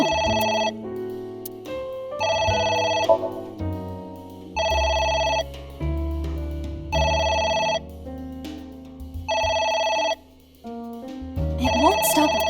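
A telephone rings insistently in the video game AI: The Somnium Files, its repeating electronic bursts arriving in a steady rhythm of six rings over a low musical backdrop, loud and close.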